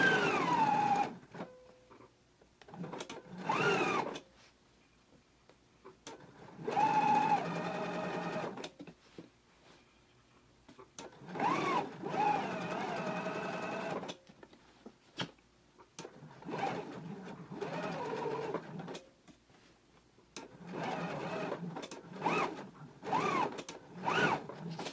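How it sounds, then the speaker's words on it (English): A domestic sewing machine topstitching a shirt hem runs in repeated bursts of steady motor whir and needle chatter, separated by short quiet pauses, fairly close and alone. "So let's go ahead and top stitch it in place now."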